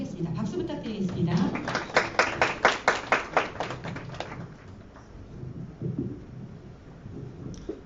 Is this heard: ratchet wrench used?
no